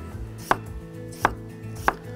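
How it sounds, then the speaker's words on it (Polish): Knife slicing peeled potatoes into thin slices for Spanish tortilla, three crisp evenly spaced chops on a board, close and clear with no talk. "Obrane ziemniaki kroję w cienkie plasterki."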